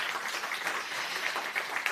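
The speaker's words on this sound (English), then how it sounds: "Please come up and you'll have a nice round of applause on your way up" Audience applause at the Northern Lights Summit 2023 as a panelist from Wintershall Dea walks up on stage, a steady, dense wash of clapping from a crowd that holds even throughout.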